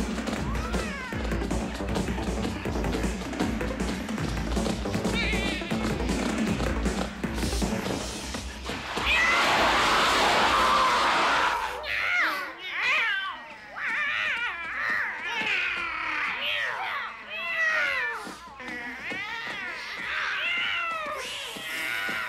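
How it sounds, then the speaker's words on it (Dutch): A cartoon cat in the Dutch-dubbed David the Gnome episode at a party in Spain meows and yowls in a string of wavering cries, after a loud, dense stretch of sound, with voices talking over part of it. "Jij misselijke kat, laat Fiorentina onmiddellijk los"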